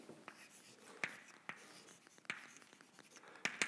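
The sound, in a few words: writing on a board during a lecture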